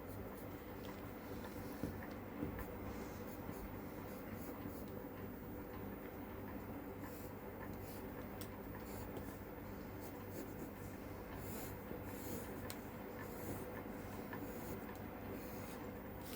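A pencil drawing a line across paper to join the petal centres of an 18-by-18-inch rangoli design gives a faint, steady scratchy rub that runs without a break under a constant hum of room noise.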